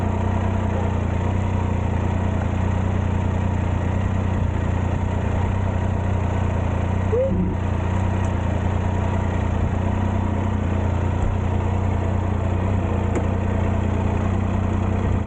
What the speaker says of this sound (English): I kept the engine running,